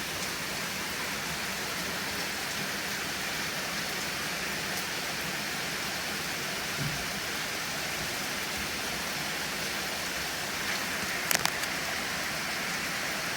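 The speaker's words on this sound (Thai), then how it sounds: "ฝนตกมาอย่างหนักเลยค่ะเพื่อนๆค่ะเห็นไหมคะ บรรยากาศ ดู ฝนตกเป็นยังไงบ้างคะ" Heavy rain pours down steadily outdoors, a dense unbroken hiss that holds at an even level throughout, with a couple of brief knocks near the end.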